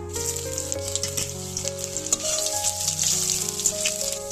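Grated ginger, panch phoron, a bay leaf and dried red chili sizzle in hot mustard oil in a kadai, a steady crackling hiss with small pops over faint sustained tones underneath.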